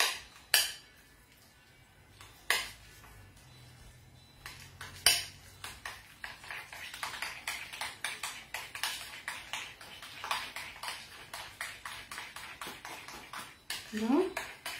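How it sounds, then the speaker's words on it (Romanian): A spoon stirring mascarpone with vanilla in a bowl clinks and scrapes in quick, steady strokes, close and moderately loud, with a brief low voice near the end. "Aici e mascarponele cu vanilia. Încerc să mi le amestec un pic."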